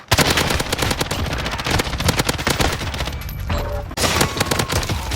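Rapid automatic gunfire from video game weapons such as the M13 and MP5, a dense, loud, continuous rattle of shots with overlapping bursts and a momentary break near the end.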